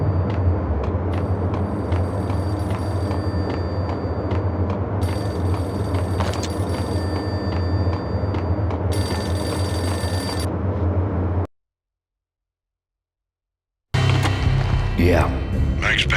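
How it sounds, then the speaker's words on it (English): A payphone rings in the PS2 game Max Payne, a steady trilling ring over a low droning ambience that runs continuously, then cuts to silence before game sound resumes. "Payphone started to ring."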